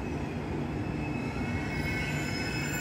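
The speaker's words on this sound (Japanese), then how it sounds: "向こうの線路からも列車が来ます。" A train arrives at Kokura Station in Japan, rumbling steadily nearby with a thin, high wheel squeal running above the low rolling noise, continuous throughout.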